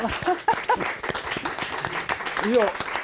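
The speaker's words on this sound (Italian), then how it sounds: "Ma non ci fate un applauso per questo?" Scattered clapping from an audience at an Italian Saturday-afternoon TV show breaks out briefly while people keep talking over it, the claps sharp and uneven beneath the voices.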